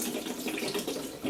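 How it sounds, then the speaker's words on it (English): Water pours out of a plastic bottle in a continuous close splashing stream, heard alone. "if I pour some of the water out here"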